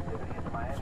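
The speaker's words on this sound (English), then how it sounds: "Now that's a helicopter." A helicopter in the Quantum of Solace video game gives a brief, steady rotor thrum and engine drone, with a voice talking over it.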